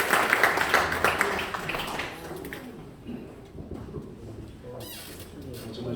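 Audience applause fills a hall at a Korean Christian businessmen's association general meeting and president inauguration ceremony: a burst of dense clapping for about two seconds, then fading to scattered claps and room murmur.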